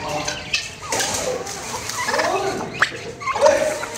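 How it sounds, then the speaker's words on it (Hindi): Turkeys gobble in loud, rapid, warbling bursts amid other farm birds, close and repeated over a busy background. "सारे बर्ड्स आ गए, टर्की बर्ड आ गए हमारे।"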